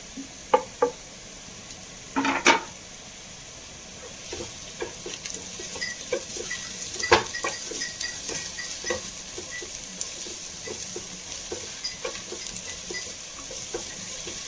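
Tomato rice ingredients with green chillies sautéing in a pan, soft steady sizzle and scattered stirring clicks and knocks of a utensil, a few sharper taps early on, close and fairly quiet with no talking.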